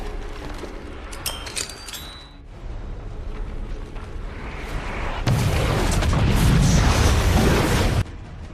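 Grenade explosion in a zombie film: after tense movie sounds and metallic clinks, a loud, roaring blast bursts in and rumbles for a few seconds before cutting off abruptly.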